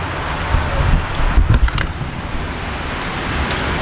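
Heavy rain suddenly pouring down outdoors near a bamboo hut under construction, a steady broadband wash of falling water with some low rumble and brief louder bursts, no talking.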